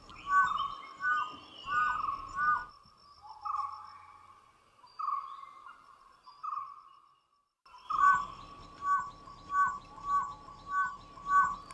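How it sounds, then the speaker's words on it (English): Repeated high, thin whistling calls from dholes, wild Indian dogs, come in bursts, then a quieter pause with a few scattered whistles, then another run of rhythmic whistles. "Known as the whistling hunters, the dhole cannot bark the way dogs do."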